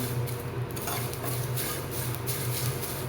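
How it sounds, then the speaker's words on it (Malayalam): Mustard seeds stirred in a pan while preparing homemade henna, with a steady scraping and clinking of utensil against pan and a low background hum running throughout. "നമ്മൾ കടുക് ഇട്ടിട്ട് ഞാൻ ഇളക്കിക്കൊണ്ടിരിക്കുകയാണ്"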